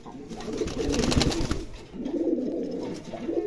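A pair of light indigo Lakka fantail pigeons coo nearby in low, throaty, rolling bursts. The calls come in two long phrases separated by a short pause.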